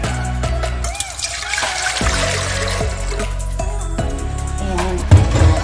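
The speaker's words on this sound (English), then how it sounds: "So the first thing I do when I do the beans, of course, I add in some water." Water pours steadily into a cooking pot prepared for beans, a continuous liquid rush with a few louder splashes near the end, heard alone at close range.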